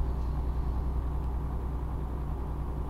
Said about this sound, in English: hopefully you guys can hear the actual truck a bit better